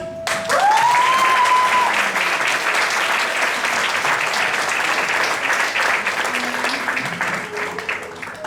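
An audience at a Gujarati play about Mahatma Gandhi breaks into loud, sustained applause that fades slightly toward the end, with a sliding electronic tone heard briefly near the start.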